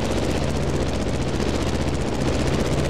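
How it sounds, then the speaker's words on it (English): Gee Bee R1 racing plane taking off in The Crew Motorfest, a steady loud droning propeller engine roar with a constant buzzing pulse, sustained throughout and unaccompanied by talk. "The plane has taken off,"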